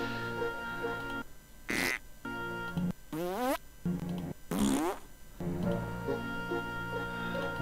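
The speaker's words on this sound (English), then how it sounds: "that's your lot for farting button noises" Buttons in the Pyst video game let out a series of loud, blurting fart noises, several separate bursts with warbling pitch broken by short gaps over a steady droning background.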